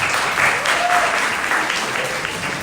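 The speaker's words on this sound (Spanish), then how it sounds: "Solicito un aplauso para nuestro profesor de carrera" Audience applause for a university lecturer at a conference, a brief burst of steady clapping from a seated crowd in a hall, heard alone.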